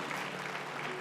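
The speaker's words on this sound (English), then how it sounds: "Round of applause, please, ladies and gentlemen." Audience applause at the Miss Universe Malta 2023 pageant show, a dense, steady wash of clapping from a large crowd filling the whole moment without pause.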